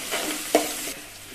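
Onion and green chilli sauté in a pan with salt and turmeric for a bottle gourd curry, giving a soft continuous sizzle with one brief scrape of stirring midway.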